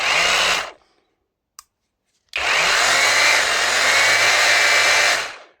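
A Parkside Performance cordless jigsaw whines loudly, slows into near silence with a brief tap, then reaccelerates and runs steadily before stopping.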